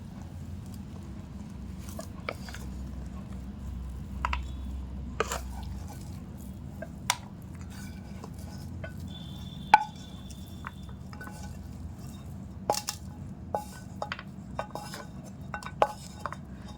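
A sweet mixture is poured and spread onto a ghee-greased plate with light clinks and taps of a utensil against metal, and soft scraping over a low background hum.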